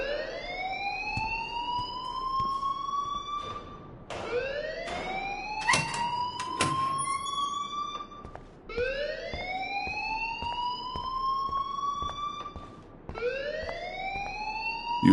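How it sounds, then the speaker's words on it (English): In the video game Life is Strange, a fire alarm blares in repeated rising sweeping wails, four long upward-gliding tones with brief gaps between them, loud and alone in the room with no talk. "please turn off that alarm since that's your job"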